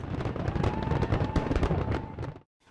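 A dense, rapid barrage of New Year fireworks over Rio de Janeiro bursts and crackles, loud and continuous, then cuts off abruptly into silence.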